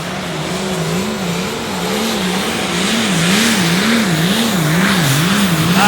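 A Light Limited Pro Stock pulling truck runs at full power at an outdoor pulling event, its engine roaring loud and steady with a wavering, slightly rising pitch that swells as the pull goes on.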